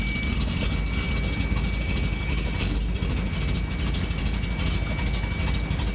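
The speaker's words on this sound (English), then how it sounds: "Somebody's out and about on a motorcycle." A steady engine drone rumbles throughout, loud and unbroken, like a motorcycle running nearby.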